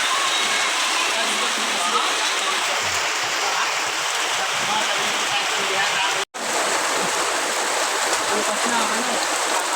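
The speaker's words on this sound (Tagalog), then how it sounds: "Yan, naulan na siya." Rain falling steadily outdoors in a rural province, a constant close-up hiss with a very brief dropout partway through; a voice speaks briefly over it.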